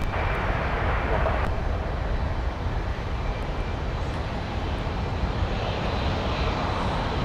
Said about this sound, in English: Got another sleek-looking bizjet that has just come out of Signature that's taxiing on Whiskey.